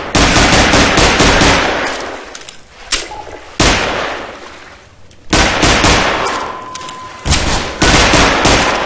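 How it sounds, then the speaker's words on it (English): Enemy gunfire in Half-Life 2 bursts out loud and close, several rapid volleys with short pauses between them and a ringing metallic clang in the middle, with no voices. "No fair shooting me while I'm underwater."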